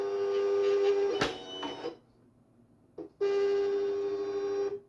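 A Silhouette Cameo 4 cutting machine feeds in vinyl with a steady motorized whine, pauses briefly with a click, then resumes the same even whirring hum, close by.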